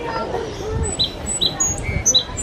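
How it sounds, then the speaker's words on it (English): Birds chirp outdoors in short, high, bright calls, several scattered across a few seconds over low background rumble. "Birds freak me out, vlog."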